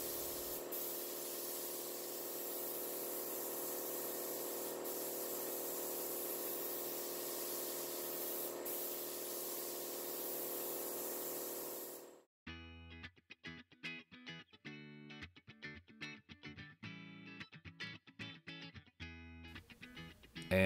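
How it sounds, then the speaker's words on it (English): Spray gun applying polyurethane finish onto a wooden coffee tabletop: a long, steady, loud hiss, then a series of short choppy bursts of spraying in quick irregular succession. "Notice I'm spraying past the ends of the top."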